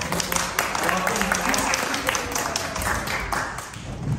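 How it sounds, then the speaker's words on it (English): A church congregation applauds to welcome a seminarian and her family, a steady, dense wash of clapping from many hands that carries on for several seconds with murmured voices mixed in. "Maybe we could give them a little applause just to say hello."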